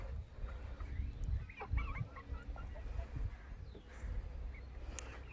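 Soft, scattered clucking from several 12-week-old Easter Egger chickens, quiet and somewhat distant, with faint rustling and background noise throughout.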